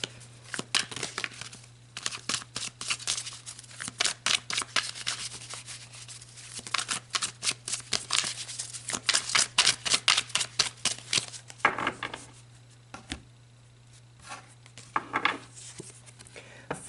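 Tarot cards being shuffled and pulled, a dense run of crisp rubbing and flicking riffles for about eleven seconds, then a few separate softer slides and taps, close up, with a steady low hum beneath.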